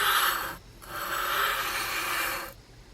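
A cheap hand axe with a convex clamshell edge is sharpened on sandpaper, producing close, steady abrasive rasping in two long strokes separated by a brief pause.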